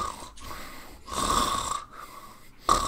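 A human voice imitates a wolf snoring loudly, with three long rasping snores separated by short pauses and a fourth starting at the end, close and alone.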